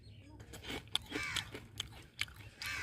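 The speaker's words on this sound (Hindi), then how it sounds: "मोटा रिकी थोड़ा धीरे धीरे खाओ, सारा तुम ही खा जाओगे क्या?" Crunchy Kurkure snack being bitten and chewed up close, with four or five sharp, crisp crunches spaced through steady mouth noise and faint voices in the background.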